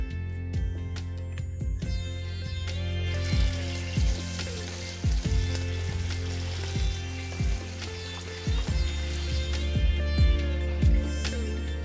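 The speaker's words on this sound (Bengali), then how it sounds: "আর তেলটা একটু গরম হয়ে গেলেই আমি এখানে মাছগুলোকে একে একে ভেজে নেব।" Katla fish pieces frying in hot white oil on a gas stove give a loud, steady sizzle, with small clinks and stirring knocks recurring throughout and no talk.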